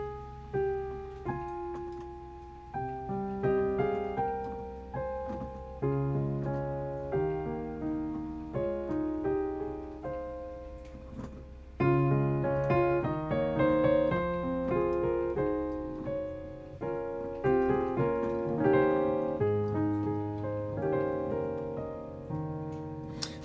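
First eight measures of a song in a personal arrangement, played as a solo instrumental with flowing melody over sustained low notes and chords, close and unaccompanied by speech.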